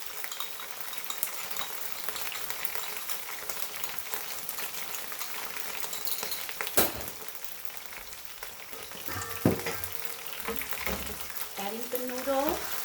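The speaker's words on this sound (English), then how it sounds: "Adding the sauce very quickly." Pad See Ew with soy-based sauce and flat noodles sizzles steadily in a hot wok, a constant loud hiss with a few clanks of the utensil against the pan and a brief voice near the end.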